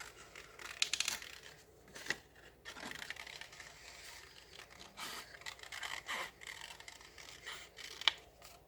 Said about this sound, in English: so you don't have to sit and watch me fussy cut this pumpkin out